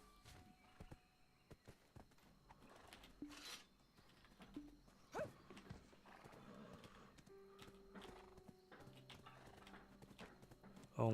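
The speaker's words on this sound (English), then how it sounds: "Oh my god, horse." A horse in the Black Desert video game neighs and its hooves clop in game audio, with rustling and a few sharp clicks, quiet overall with a louder burst at the very end.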